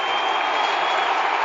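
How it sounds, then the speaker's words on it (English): A packed stadium crowd roars for Collingwood's Thomas goal during a 2012 semi final against West Coast, a steady, broad wall of cheering and applause that stays loud and unbroken throughout. "Oh, listen to the roar for Thomas."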